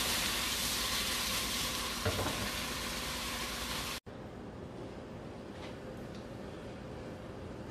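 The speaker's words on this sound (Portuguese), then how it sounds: "A água está fervendo" Water boiling in a cooking pot, set to be used for cooking noodles for beef yakisoba, gives a steady bubbling sizzle that cuts off abruptly halfway and resumes as a fainter, quieter simmer.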